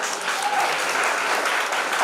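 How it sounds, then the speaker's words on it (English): Audience at a university project expo valedictory ceremony applauding the winners, loud, dense, continuous clapping throughout. "Give a huge round of applause for the winners."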